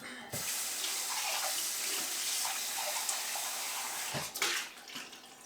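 A cooking pot is rinsed under a running kitchen tap, a steady loud rush of water hitting metal for several seconds, with a brief louder splash near the end.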